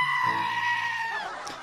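A goat in the mobile game Legacy of Discord lets out a single drawn-out, nasal bleat that wavers and fades, followed by a faint short blip at the end.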